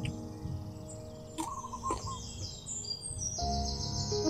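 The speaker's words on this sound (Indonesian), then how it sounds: "Kalau dengar suara burung." Birds chirp and tweet in bright, overlapping calls in a garden, some sweeping and trilling, over a constant outdoor hum; no one speaks.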